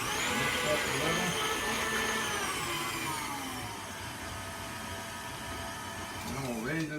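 Electric stand mixer beating banana nut bread batter with eggs and vanilla, a steady loud motor whir that dips in pitch partway through and rises again near the end.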